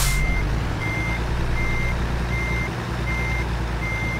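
Reversing beeps from a truck backing up a trailer in American Truck Simulator, a steady evenly spaced series of loud electronic tones over a low engine rumble, with no voices.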